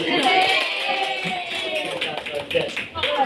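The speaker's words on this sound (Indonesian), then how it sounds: "Tepuk tangan" Hands clap in a classroom rhythm game, sharp, close claps in short patterned bursts, with a teacher's voice talking between and over them.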